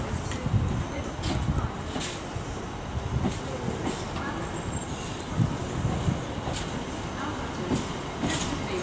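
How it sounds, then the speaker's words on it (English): LNER passenger train, unit 800-210 on the 14:30 Lincoln Central to London King's Cross service, arriving at Peterborough station on the East Coast Main Line, a steady rumble of wheels and rail noise with faint rhythmic clacks under continuous distant talk. "Coming in behind me will be the 1430 LNER service to London King's Cross from Lincoln Central."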